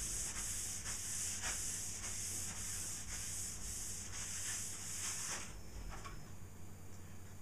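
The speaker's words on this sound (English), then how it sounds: "I wipe off all the excess oil. And I really try to wipe off the oil as best as I can." A cloth rubs excess boiled linseed oil off a wooden surface in steady back-and-forth strokes, about a dozen even swishes of soft rasping friction, close and fairly quiet with no speech.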